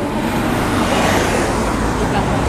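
Steady, loud street traffic roar as a bus approaches, continuous motor and road noise with no distinct pauses.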